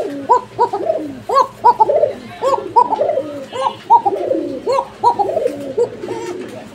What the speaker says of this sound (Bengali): দেখেন একটু দেখি, এই যে দেখেন কবুতরটা